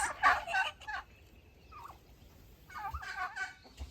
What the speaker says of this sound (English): We've got 3 female turkeys, or jennies.